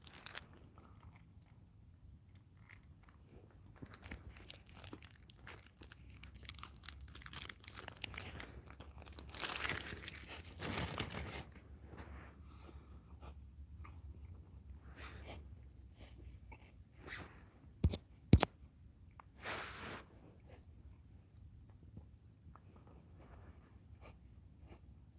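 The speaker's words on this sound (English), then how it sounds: "It sounds crunchy, so it rules out a Mars bar." Crunchy snack being chewed close to the microphone, irregular bites and crunches spread through a quiet stretch with a few louder snaps near the end, no talking.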